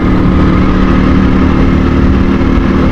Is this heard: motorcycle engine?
yes